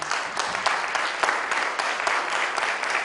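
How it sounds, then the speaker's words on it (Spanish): An audience at a cybercrime and cybersecurity event applauds to welcome a speaker, with steady, dense clapping that fills the whole three seconds at an even level. "Recibámoslo con un fuerte aplauso."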